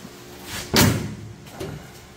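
A shortened suicide door on a dune buggy shuts with a sharp metallic slam, its latch and panel rattling briefly, then a second softer clunk follows. The sounds are close, with no talking.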